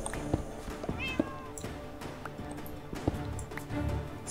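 A cat meows in the Minecraft video game, several short meows scattered among footsteps and game sounds, at moderate level under the ambient game audio.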